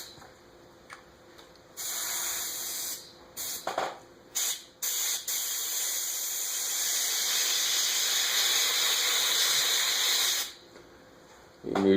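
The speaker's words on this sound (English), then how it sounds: "You can usually spray it on your glove" Airbrush spraying dark green paint onto a skin-mount bluegill, a steady hiss in long bursts with short pauses and sputters between, close and fairly loud.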